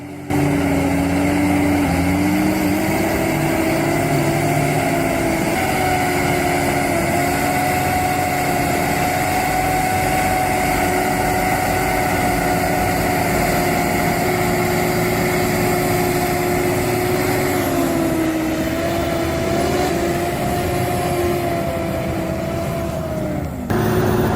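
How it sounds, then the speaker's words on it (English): A Kirovets K701 tractor hauls a John Deere 8410T out of mud, its heavy engine holding a loud, steady drone for the whole stretch. The pitch shifts slightly mid-pull before cutting off sharply at the end. "The K701 pulls the John Deere 8410T out of the mud with a perfect mix of brute force and modern control"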